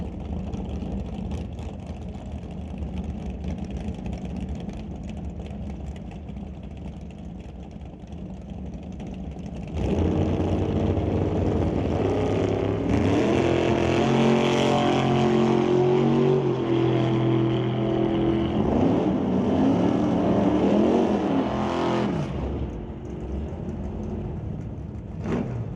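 Drag race launch between a Chevy II and a roadster at a Super Pro race: steady engine drone that jumps to a louder, dense roar of the cars pulling away at mid-distance, sustained for many seconds before easing slightly.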